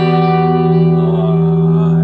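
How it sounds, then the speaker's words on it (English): A loud electric guitar chord drenched in delay and reverb sustains evenly without talking, its bright, bell-like wash holding steady throughout. "I've got a nice amount of delay and reverb going on as well. I'll turn it up so that you can hear a little"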